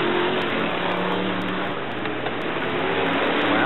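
Brisca F1 stock cars racing round a bend at Brafield during the 1985 European championship, several engines roaring loudly and continuously as the pack passes close by, with no talk over the noise.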